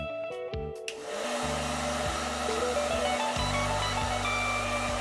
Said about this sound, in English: Try the dog with a dryer.